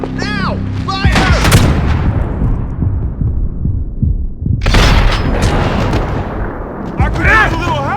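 Heavy booming gunfire from the video game Max Payne 3 during a cemetery battle in the São Paulo favelas, with two loud bursts and rumbling tails, mixed with shouted voices and game dialogue.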